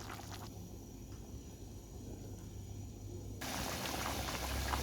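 Garbanzos boil in a pot with a soft, steady bubbling simmer that is quiet at first and grows a little louder and brighter toward the end.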